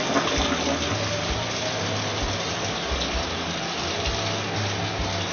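Water runs steadily from a kitchen tap while noodles are cooked, a constant broadband gush without pauses, fairly close and alone with no talk.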